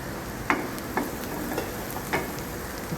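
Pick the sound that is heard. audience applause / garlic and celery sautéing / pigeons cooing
garlic and celery sautéing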